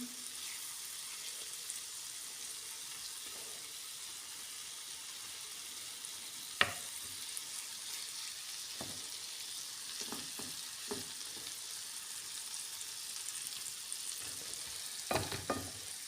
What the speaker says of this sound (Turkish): Şöyle peynirimiz güzelce kızardı